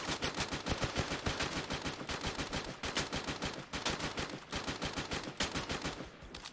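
Rapid bursts of automatic gunfire from a Free Fire ranked match crackle continuously, shot after shot in a fast, driving rhythm with brief gaps, loud and close with no talking.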